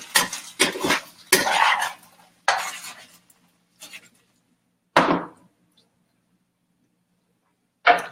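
Irregular bursts of scraping and clinking as a spatula stirs spicy vegan chili in a pot, a few quick strokes followed by pauses and a last short scrape, close and fairly loud.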